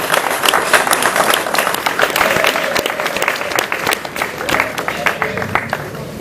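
An audience at the Goethe-Institut in Lomé applauds a Togolese slam poetry group, dense sustained clapping from a crowd that continues steadily throughout, close and loud.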